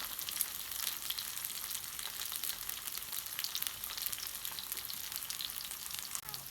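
Fish frying on a flat tawa griddle, a continuous crackling sizzle of hot oil with fine spattering pops, steady and close with no voices.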